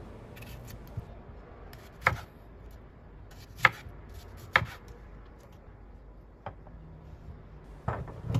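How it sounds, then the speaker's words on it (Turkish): Tomatoes being chopped with a knife on a cutting board, a series of crisp, close knocks spaced irregularly about a second or more apart over low room background, with no talking. "Evet, tüm domateslerimi doğramaya devam ediyorum."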